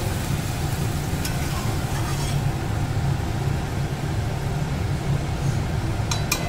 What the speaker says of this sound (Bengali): এবার মা এখানে সর্ষে বাটা আর তার সাথে জলটা ছিল সেটা এখানে দিয়ে দিল।